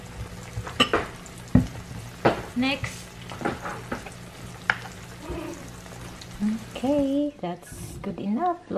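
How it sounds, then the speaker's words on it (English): Burger recipe ingredients with added honey being stirred and mixed in a bowl, with scraping and wet stirring sounds in irregular strokes, up close under bits of talking. "I'm just going to mix them up, all of them, so that it's mixed well"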